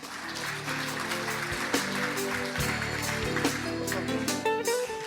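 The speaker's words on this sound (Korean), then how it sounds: "무대 위로 입장하실 때 역시 큰 박수로 환영해 주시기 바랍니다" An audience at a 2019 economic forum in Korea applauds steadily as a floor leader walks onto the stage, the clapping sustained and moderately distant under a faint hum.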